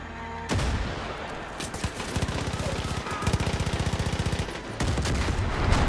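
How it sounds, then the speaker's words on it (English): Sustained machine gun fire in the video game Far Cry 5, with dense bursts and rapid rhythmic volleys of shots running loud and close through most of the stretch. "The machine gun's not so fucking tough now, is it?"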